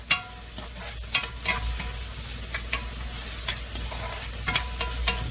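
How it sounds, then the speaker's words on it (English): Red pepper sauteing in a pan, a continuous close sizzle broken by frequent stirring scrapes and light utensil taps, with no voices. "We're going to saute these out a little bit."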